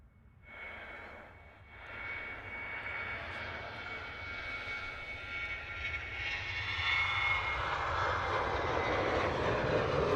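A Ryanair jet airliner on its takeoff roll at Manchester Airport, its engine roar heard from a distance and building steadily, rising in loudness toward the end with no talk over it.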